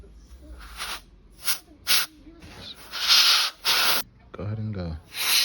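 Short bursts of a compressed-air spray can blowing dust out of a PlayStation 5 cooling fan, several sharp hissing blasts of varying length, close and loud, with people talking between them.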